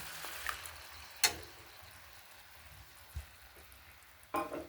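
Poppy seed and mustard paste frying in a pan for a cauliflower, potato and green pea curry, a faint, soft sizzle with a few sharp clinks of a spoon against the pan.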